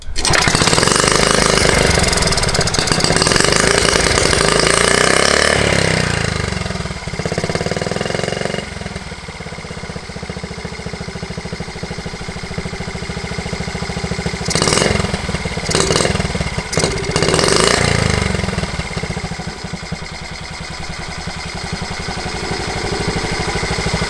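Honda T50 motorcycle engine, stored for ten years, revving loud and close as the throttle snaps open, with a rough, uneven note that rises and falls and breaks into a few sharp sputtering bursts.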